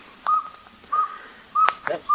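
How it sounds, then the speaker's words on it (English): Northern saw-whet owl calling at night in Texas, a sharp, evenly spaced series of short whistled toots, four notes in quick metronomic rhythm, clear and moderately close against a quiet background. "That sharp metronomic sound is the saw-whet owl call."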